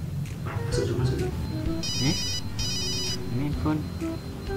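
A phone ringtone plays in two short bursts of repeating electronic tones in a boarding-house room, with people talking over and around it.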